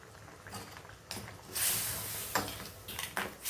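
Coconut milk is poured into simmering crab gravy, a faint liquid splash and hiss rising for about a second amid soft clinks of a pot and spoon, quiet and close, with no voice.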